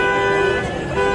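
Car horns blare continuously on a Paris street at New Year, several overlapping tones honking together loudly for a brief moment amid street noise.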